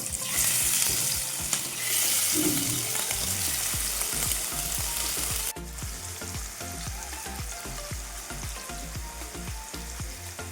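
Prawns fry in hot oil for a chemeen roast, giving a steady loud sizzle with scattered crackles and pops, easing slightly partway through, with no talking.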